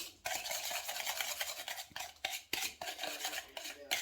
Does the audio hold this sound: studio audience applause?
no